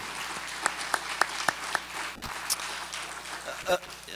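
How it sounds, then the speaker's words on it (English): Audience applause at a Creighton University gathering, a steady, fairly faint wash of clapping with a few sharper individual claps standing out, fading toward the end. "Please join me in another round of applause for Marong"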